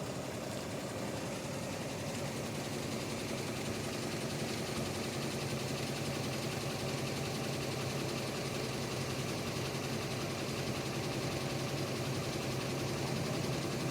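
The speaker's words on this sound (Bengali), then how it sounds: "রেডি হয়ে গেছে গাড়ি কিন্তু বেরিয়ে যাবে এখন" A large 18-wheeler trailer truck engine idles steadily before pulling out, a constant low rumble with even vibration and no voices.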